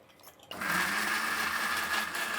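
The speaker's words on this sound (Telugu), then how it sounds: "ఈ మిక్సీ జార్నే కడుక్కునేసి దీంట్లోనే టమాటా చట్నీ రుబ్బుకుందామండి" A kitchen mixer grinder whirs steadily as it grinds tomato chutney in its jar, switching on abruptly after a brief quiet moment and running loud and close with a continuous high hum.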